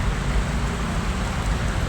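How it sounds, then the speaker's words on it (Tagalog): Steady, dense hiss of heavy rain pouring down, constant and loud throughout with a low rumble beneath, no voices. "malakas ang ulan"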